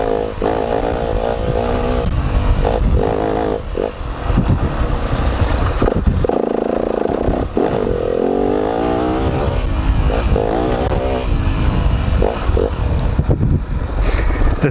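A trail motorbike on a single-track trail, running a standard clutch, revs loudly and continuously close by, its engine note rising and falling with throttle over steady wind buffeting.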